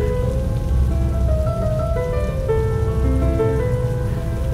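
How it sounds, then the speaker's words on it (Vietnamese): Steady rain patters loudly and continuously on a surface, a dense even hiss of drops with soft melodic tones playing beneath it. "tha hồ ngắm mưa bên đường"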